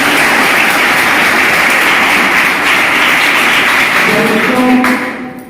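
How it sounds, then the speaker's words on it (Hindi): An audience of schoolchildren applauds the didi at a Rajyoga meditation session at a school in Khalilabad, a steady, dense clapping that holds loud for about five seconds before thinning and fading out at the end. "एक बार दीदी जी के लिए जोरदार ताली होनी चाहिए"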